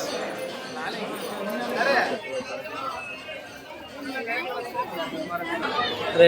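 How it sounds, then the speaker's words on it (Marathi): A dense crowd murmurs and chatters around the Shyam Kund temple tank, a steady wash of many overlapping voices with no single talker standing out, swelling slightly midway and again toward the end. "बघा, भरपूर गर्दी आज."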